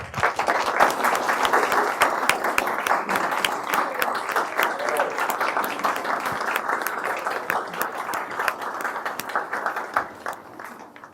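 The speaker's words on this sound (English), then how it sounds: "please give a round of applause to all of our Friends of Education volunteers" An audience at a school district volunteer recognition event gives a sustained round of applause, dense crowd clapping rolling steadily for about ten seconds before tapering off near the end.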